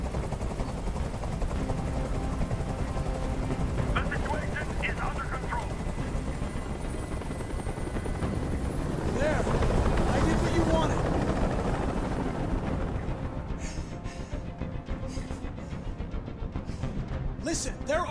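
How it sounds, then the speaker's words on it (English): A helicopter in the video game Detroit: Become Human hovers overhead with a continuous loud rotor roar, swelling midway with gunfire-like bursts mixed in. "I can't stand that noise anymore! Tell that helicopter to get out of here!"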